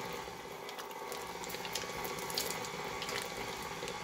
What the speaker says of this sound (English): I have the butter and the Crisco in the mixer already. So basically we're just going to cream these together